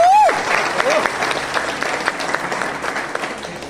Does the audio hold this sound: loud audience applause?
yes